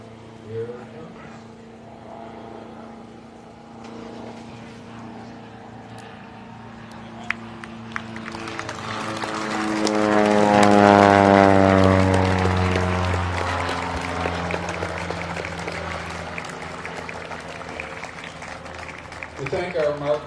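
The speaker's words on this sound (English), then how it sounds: "There is a plane coming, I hear it. Here's the flyover right here." A Civil Air Patrol propeller plane makes a flyover at an outdoor Memorial Day service, its droning engine rising from far off to a loud close pass and then fading away.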